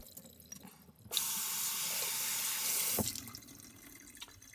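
Tap water pours steadily for about two seconds while a granite molcajete is rinsed in a sink, starting and stopping abruptly, with quiet handling noises before and after.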